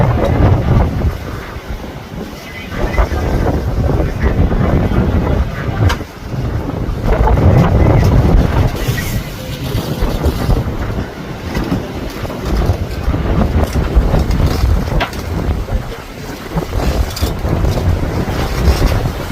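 Strong storm wind roars steadily at deep sea, buffeting the microphone in heavy gusts over the rush of waves and a boat's churning hull.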